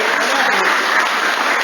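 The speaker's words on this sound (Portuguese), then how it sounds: "Aplauda a palavra de Deus" Steady broadband applause from a Catholic church congregation during a sermon, a continuous dense wash of clapping with no pauses and no voices over it.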